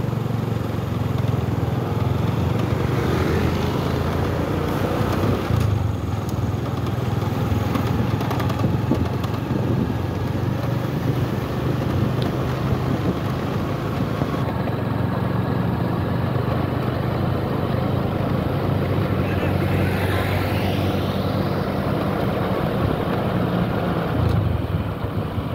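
Motorcycle fitted with a Vinyx GR2 D2 laser LED spotlight riding on a dry road, a steady, close engine drone with road and wind rush running unbroken throughout, no voices.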